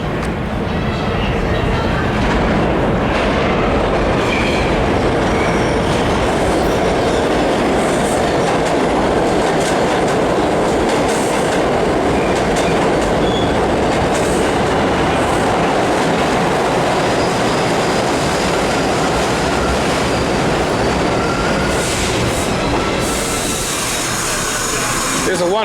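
New York City subway trains on the 7th Avenue line, including a Bronx-bound 2 express, rumble past with continuous loud clattering wheels and rail noise filling the station throughout.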